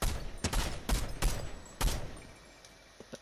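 Gunfire in the video game Fortnite: several rapid bursts of loud shots in close succession, fading into quieter scattered pops near the end, with no voices.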